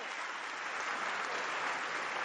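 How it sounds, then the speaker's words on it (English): Steady applause from a rally crowd, dense continuous clapping at a moderate distance, with no voice rising above it. "Give him a round of applause"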